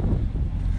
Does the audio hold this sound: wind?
yes